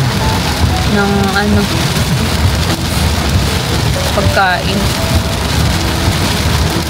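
Rain falls steadily and loudly outdoors, a continuous dense patter with scattered bird chirps, while a person speaks briefly over it.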